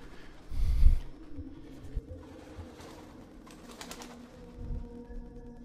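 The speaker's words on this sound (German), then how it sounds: "Ich befürchte fast, dass wir gleich attackiert werden von einem Haufen Tauben." Pigeons in a brewery stairwell give soft, faint coos and a brief flutter amid low rumbling room noise, with a louder thump near the start and again close to the end.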